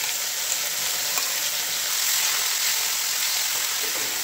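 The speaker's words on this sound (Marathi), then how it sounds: "तेल सुटेपर्यंत परतून घ्यायचं." Masala sizzling and frying in hot oil in a kadhai, a dense, steady crackle that continues evenly throughout with no voices.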